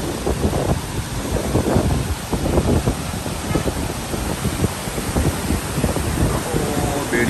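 A loud, continuous rush of water with rough wind buffeting the microphone, steady throughout.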